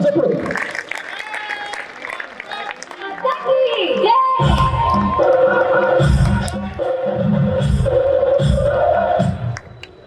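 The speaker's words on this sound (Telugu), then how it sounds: "చప్పట్ల ద్వారా స్వాగతం" An audience at a community gathering applauding to welcome a guest, with loud crowd clapping swelling midway and holding steady while a voice speaks over a public address system.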